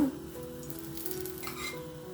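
Ghee sizzles around akki rotti frying in a pan over a medium flame. A steady, gentle crackle runs close and even, with a few brighter spits and no voices.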